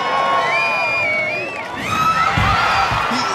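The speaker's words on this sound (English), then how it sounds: "The crowd is going nuts." Spectators cheer at an American Ninja Warrior qualifier as a competitor crosses the jumping bars, with high whoops and shouts over a crowd roar that swells louder toward the end.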